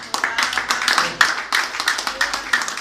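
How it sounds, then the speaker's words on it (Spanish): A congregation gives applause during a service, heard as a rhythmic, fairly close clapping in steady beats, with a voice speaking over it. "Démosle un aplauso."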